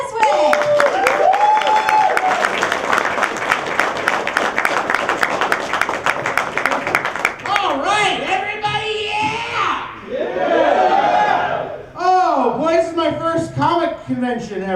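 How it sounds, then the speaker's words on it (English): A convention comedy show audience applauds and cheers for a comedian, with loud sustained clapping that fades as a host talks over it, followed by scattered laughter and talk. "A big round of applause. Let's start clapping right now for Brandon Beswick."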